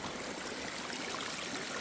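Water from a 750-gallon pump rushes through a gold sluice in a steady, full, broadband wash of flowing water that stays constant and close, with no voices.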